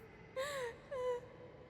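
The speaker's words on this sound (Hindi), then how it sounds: "जवाब में सिर्फ रोने की आवाज आती रही।" A woman cries in two drawn-out, quavering moaning wails, each under a second, that rise and fall over a faint background hiss.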